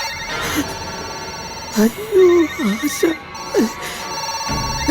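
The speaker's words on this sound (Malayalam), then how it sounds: "phone is ringing" A telephone rings with a repeating electronic ringtone pattern, fairly loud and close, while a voice speaks over parts of it.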